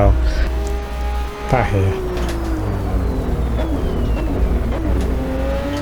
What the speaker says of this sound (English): the next corner sequence I think I'll be braking, it has a nice down change sound as well